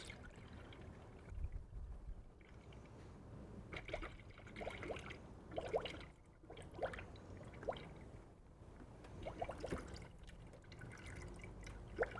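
Full-strength antifreeze poured into a car's cooling system during a flush, a faint irregular gurgle and trickle with scattered drips, quiet and without talk.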